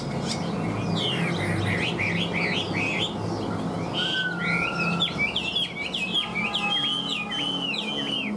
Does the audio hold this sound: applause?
no